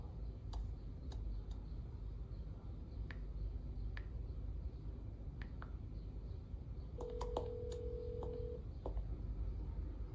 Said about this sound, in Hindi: राहुल, प्रिया को फोन लगाओ।